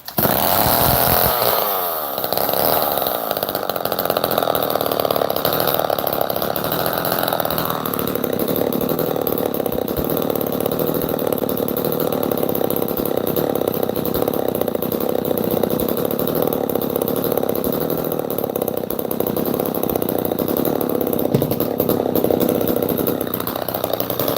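A chainsaw catches with a sharp pop, then roars continuously at close range, loud and steady with slight shifts in engine pitch as it keeps running.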